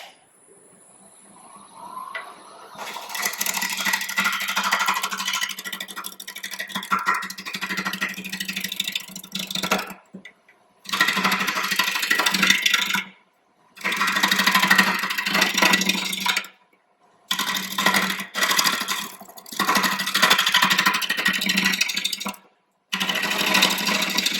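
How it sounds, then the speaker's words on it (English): A wood lathe spins a cedar blank being turned into a snowman as a bowl gouge cuts in loud, sustained bursts of scraping hiss, broken by several short pauses of near silence between passes. "I'll start out with a gouge, with a bowl gouge, and then I'll probably move into a rough and gouge just to get it smooth"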